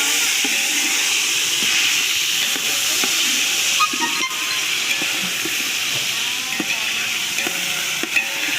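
A large biryani pot of water and oil comes to a rolling boil, giving a steady, loud sizzling hiss with soft bubbling pops and light stirring knocks throughout, no voices.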